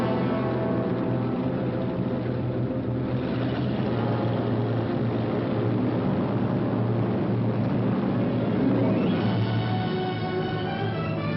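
Engines of British bombers drone steadily in flight, a loud continuous multi-engine rumble with layered harmonic tones that holds for the whole stretch, no voices over it.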